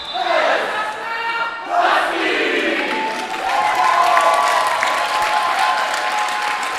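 Supporters cheering and applauding inside a gym at a national volleyball championship as the silver bracket champions gather on the court, a loud, sustained crowd roar with scattered shouts that swells around two seconds and stays strong throughout.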